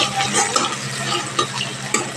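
Chopped onions frying in a pan, a constant close sizzle with three or four sharper scraping stirs spaced through it, no speech.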